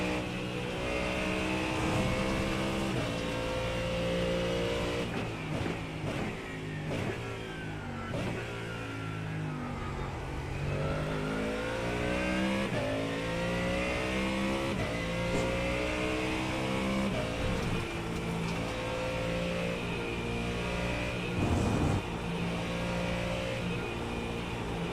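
A hypercar engine revs hard while driving, rising and falling through gear changes in a loud, sustained harmonic roar with sweeping pitch, heard close for the whole stretch without talk.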